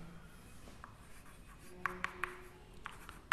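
Chalk or marker writing a plane-angle unit on a board during a physics lecture, soft scratchy strokes with several quick, distinct taps close by in a quiet room.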